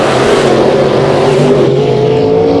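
A super late model race car at speed on a track, a loud continuous engine roar with a steady droning pitch throughout, no talk.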